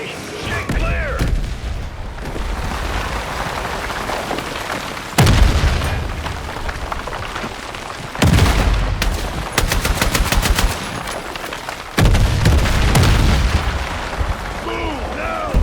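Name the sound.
artillery explosions in video game Battlefield 6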